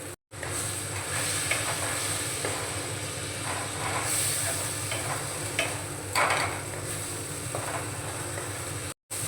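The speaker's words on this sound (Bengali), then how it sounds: "অল্প একটু জল দিয়ে মশলাটাকে কষিয়ে নেব।" Spice masala with ginger, tomato, coriander powder and a splash of water frying in a pan, a continuous sizzling hiss with occasional scraping stirs, close and steady, no voices.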